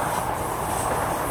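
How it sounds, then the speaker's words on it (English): A CrossCountry Class 170 diesel unit passes through a station at Newport, a steady loud rumble of wheels on rail close by, with no talk over it. "there's a cross country 170"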